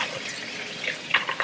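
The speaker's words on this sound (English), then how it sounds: "So I just put my sink on like medium." A kitchen sink tap runs at medium flow to rinse crabs, making a steady close splashing hiss with a few brighter spatters near the end.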